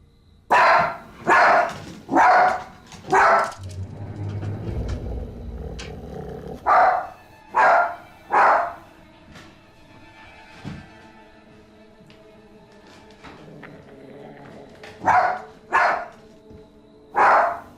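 Dogs barking in a quiet residential cul-de-sac, sharp repeated barks in clusters of three or four, loud and near, with long pauses between bursts and a low rumble under the middle.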